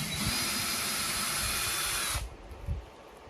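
A power drill running in reverse whirs loudly and steadily for about two seconds, then cuts off abruptly, leaving a quiet room with a faint thump.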